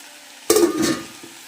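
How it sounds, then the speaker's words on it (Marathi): Soybean chunks tipped into a pan of tomato and yogurt gravy, followed by a sudden wet sizzle and a short stir. A faint clink of the utensil sounds at the end. "आता ह्यात हे सोयाबीन मला टाकायचे"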